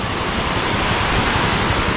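Floodwater rushing over a dam near a poultry farm after a night of rain, a loud, unbroken roar filling the whole clip with no voices.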